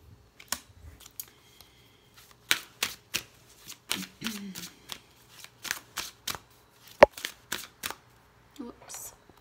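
Tarot cards drawn and laid out for a general spread, with a run of sharp, crisp card snaps and flicks coming in irregular bursts, close and fairly quiet, and a brief low murmur in between.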